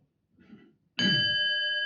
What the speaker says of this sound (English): as long as you can hear the sound of the bell, you can rest your mind on the knowing or on the awareness of the sound itself